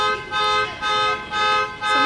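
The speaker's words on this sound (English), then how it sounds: "Someone's alarm." A car alarm sounds somewhere outside a home in a shopping-center area, its pulsing tone repeating in steady bursts about every half second, moderately loud and heard on its own.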